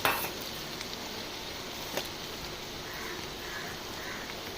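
Chicken gizzard fry sizzles steadily in a pan as garam masala is stirred in, a constant loud crackle of frying with occasional soft scrapes and clinks from the utensil against the pan.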